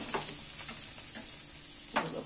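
Egg paratha fries in a pan with a steady, soft sizzle, punctuated by a few light stirring or turning scrapes, quiet and close with no talking.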